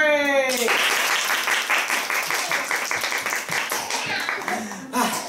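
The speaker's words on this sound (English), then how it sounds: "Put your hands together and have a warm round of applause for Little Lory." Warm burst of applause from an audience, many hands clapping steadily for several seconds after a brief voice.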